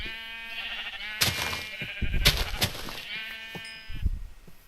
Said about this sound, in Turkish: Kuzu sesi var.